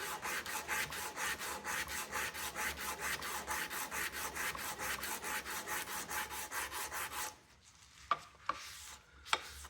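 Rhythmic back-and-forth rubbing as a Remington 722 trigger guard is polished by hand, about four strokes per second for seven seconds, then stopping, followed by a few sharp knocks.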